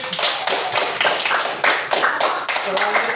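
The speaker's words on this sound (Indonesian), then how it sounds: "tepuk tangan dulu untuk kelompok Alif." A classroom group claps for a team of students, quick uneven hand claps in bursts that are close and fairly loud, with voices mixed in among them.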